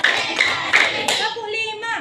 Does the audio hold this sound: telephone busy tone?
no